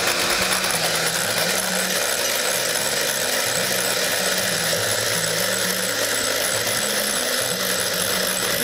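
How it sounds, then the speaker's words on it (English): An electric mixer whips egg whites for pancakes, a loud close continuous motor whir whose pitch wavers as the beaters move through the bowl, with no talking. "we're going to whip the egg whites"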